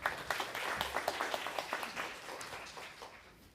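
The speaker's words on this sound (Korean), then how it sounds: "뜨거운 박수로 환영해 주시기 바랍니다." Conference audience clapping to welcome a speaker at an e-learning event in Korea, a brisk round of applause with distinct claps that gradually thins out toward the end.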